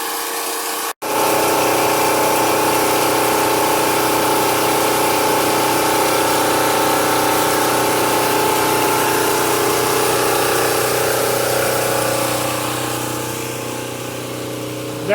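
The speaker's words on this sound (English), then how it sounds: "That's the generator that all that I showed you in the shed would be used in. It's so noisy I couldn't talk by it." A noisy generator engine runs loud and steady close by, a constant droning hum with a brief cutout just after the start before the engine roars on, easing slightly toward the end.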